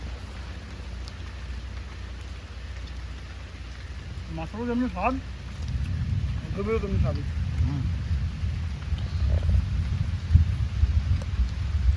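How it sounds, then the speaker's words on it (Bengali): Steady rain patters and hisses, growing heavier partway through, while people talk over it. "সত্যি বৃষ্টি পড়ছে ভালোই"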